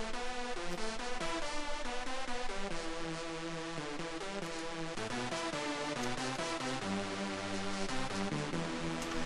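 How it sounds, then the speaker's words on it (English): A dark sawtooth synth pad sits underneath a techno remix, sustaining chords beneath brighter melodic lines. The mix is dense and continuous, with no voices. "A really dark saw that appears underneath here and gives a great feeling"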